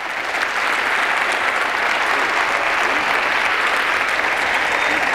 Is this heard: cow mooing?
no